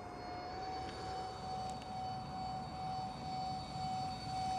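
A fan-powered Mario Kart RC toy car running at full throttle with its fans angled slightly down, giving a steady, loud whirring drone with a sustained high whine throughout.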